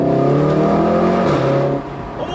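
VW Golf R exhaust resonating in a tunnel: a loud, close engine drone with a rising tone, then cutting off as the exhaust note drops into rough crackling, without any clear separate bangs.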